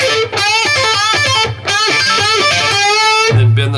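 An electric guitar plays a riff with string bends and vibrato; fast, loud and close, a continuous melodic run with brief gaps, no talking.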